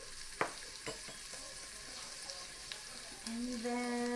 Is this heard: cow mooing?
no